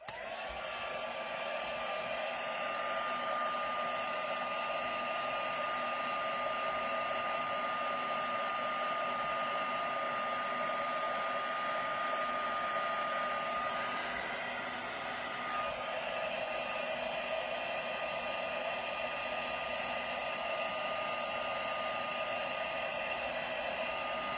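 A continuous whirring blast of a heat gun with a steady high whine, running nearly unchanged throughout, close and moderately loud.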